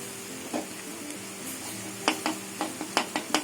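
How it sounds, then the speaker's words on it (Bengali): Garlic paste frying in oil in a pan pushed alongside vegetables for a dried-pea ghugni, a steady soft sizzle broken by several sharp clicks and scrapes of a spoon stirring, with no voices. "রসুন কাঁচা গন্ধটা চলে যাওয়া অবধি রসুনটা একটু এখানটা ভেজে নেব"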